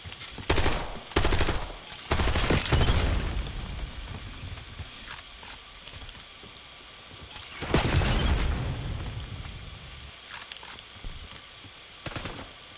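Machine-gun fire and explosions in the Black Ops 6 video game, sharp bursts of rapid shots with heavy booms, loudest near the start and again around the middle, then fading to scattered single shots.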